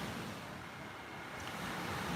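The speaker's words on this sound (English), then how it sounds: "Listening to the waves." Steady broadband wash of surf rolling in at Pattaya, with a soft wind rush over it and no voices.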